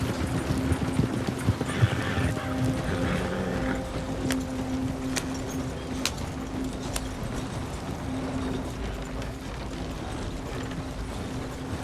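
Hooves of two horses clip-clop steadily through the Red Dead Redemption 2 game world, with a repeating rhythmic gait and occasional sharp knocks and creaks over a constant low rumble.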